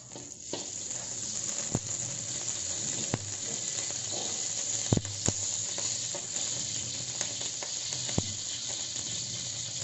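Blended chili sizzles steadily in a hot pan while being sautéed for a shrimp dish in oyster sauce, with sharp clicks and scrapes of stirring cutting through the continuous frying hiss.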